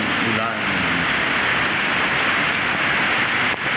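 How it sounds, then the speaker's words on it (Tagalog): Sudden heavy rain pours down steadily on a farm, making a loud, dense wash of noise that never lets up. "Biglang bumuhos ang napakalakas na ulan."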